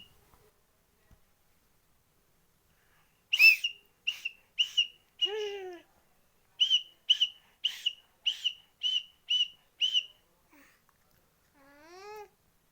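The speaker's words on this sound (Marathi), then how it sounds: "चिमुकली बावली कशी शिट्टी वाजवते बघा आणि एन्जॉय करते" A series of short, bright whistled notes in quick bursts, with a few rising slides, clear and close against an otherwise silent background.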